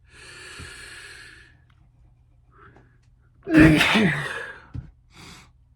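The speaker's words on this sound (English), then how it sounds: "Oh, now I gotta sneeze." A single loud, close sneeze bursts out after some quiet breathing, followed by a short sniff.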